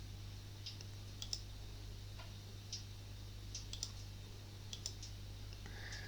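Quiet, sparse computer mouse clicks while editing on a web app builder, single and paired clicks scattered irregularly over a low steady hum, close and faint with no speech.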